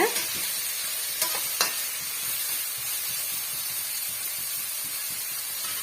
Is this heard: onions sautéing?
yes